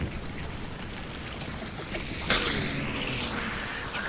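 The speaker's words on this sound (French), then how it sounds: "enfin qu'il pleuve" Steady rain hisses in Hunt: Showdown, a broad, continuous wash of falling water that swells slightly partway through, with no voices over it.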